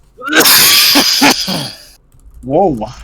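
A single loud, explosive human sneeze, preceded by a brief inhale, followed by a startled voice reacting.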